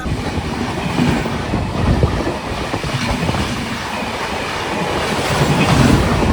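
A passenger train from Siliguri to Kolkata rumbles along steadily with rhythmic clatter of wheels on rails, loud and close, with no voices.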